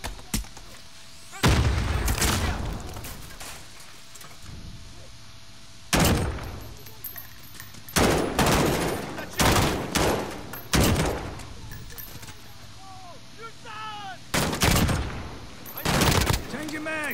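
Shotgun blasts in the video game Modern Warfare, single heavy booming shots spaced irregularly a second or two apart, loud and close, with quieter ambience between them.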